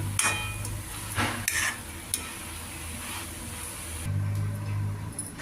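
Beetroot curry seasoned with salt and turmeric is stirred in a pan, a steady sizzle with scraping spoon strokes and occasional light clinks of utensil against metal, close up and without talk.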